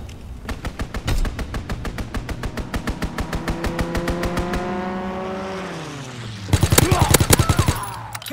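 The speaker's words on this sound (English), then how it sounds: "Enemy strafing run inbound." An enemy strafing run in the Call of Duty WWII video game: a rapid, steady stream of loud gunfire bursts with a droning aircraft engine that swoops downward in pitch, then a heavier cluster of close impacts near the end.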